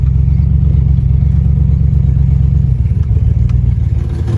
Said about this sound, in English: After running for a little bit, the Disco is idling a lot better.